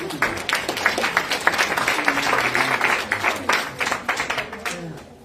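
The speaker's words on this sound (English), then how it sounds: "Let's give ourselves a round of applause." A live audience in a room claps for a few seconds after being asked to applaud themselves, producing dense, moderately loud clapping with some voices mixed in.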